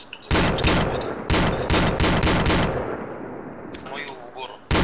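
Repeated gunfire in the military shooter ArmA 2 ACE, loud close bursts of shots in quick clusters with echoing tails between, a few more shots near the end.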